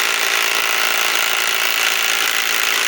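Milwaukee M12 Fuel Stubby 2562-20 impact wrench on a 5 amp XC battery, a loud, continuous, close rattling hammer-buzz held steady for a few seconds without a break.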